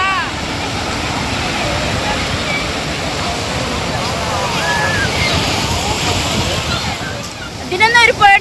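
Sea waves at Kozhikode (Calicut) Beach make a steady, loud surf roar that washes on continuously, with voices faintly heard over it.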